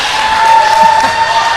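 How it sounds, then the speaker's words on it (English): A crowd at a netball match between Malta and Israel at the Europe Netball Open Challenge cheers after a goal, a moderate, continuous roar of many voices with a thin steady tone running through it. "And the crowd go wild."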